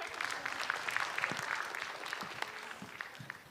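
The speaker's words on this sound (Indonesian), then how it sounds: "Tepuk tangan sekali lagi untuk Kang Ripai." Studio audience at a stand-up comedy competition show applauds after a comedian's set, a continuous dense wash of many hands clapping heard at a distance and fairly faint throughout.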